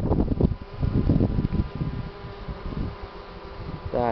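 Buckfast honey bees buzz in a low, dense swarm drone at an open hive, close and fairly loud at first, then fading slightly with rustling handling sounds and a brief louder burst at the end.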